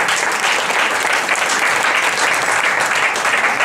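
A crowd at an outdoor poetry evening applauds in a loud, continuous wash of clapping that holds steady from start to finish, with no voices over it.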